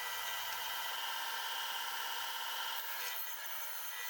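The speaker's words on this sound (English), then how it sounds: "I'll then sand it down to remove some of that galvanizing." A galvanized metal piece for a lathe milling attachment being sanded, giving a continuous, even, hissing abrasive noise that stays steady throughout at a fairly quiet level, with no talking.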